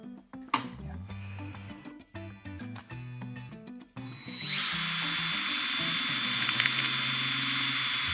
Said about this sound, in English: place the wire wheel up to the head with the drill running